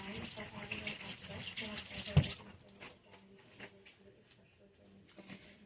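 Hands rinsed under a running kitchen tap while making breakfast bites, a broad watery rush for the first two seconds that drops off sharply after a thump, leaving faint trickles and small clinks.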